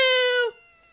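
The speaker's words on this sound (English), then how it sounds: "heard a kitty." A cat meows in the video game Ace Attorney: Justice For All, one long, bright, tonal meow that holds steady and then drops off sharply, leaving a faint fading tail.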